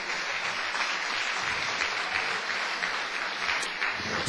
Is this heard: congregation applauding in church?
yes